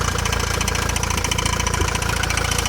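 A lorry engine runs steadily at idle with a persistent rattle, a constant loud rhythmic chug heard close up with no talking.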